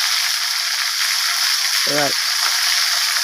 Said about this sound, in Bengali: তেল তেলের মধ্যে কাঁচা লঙ্কাটা ভেজে ফ্লেভারটাও ভালো বেরোবে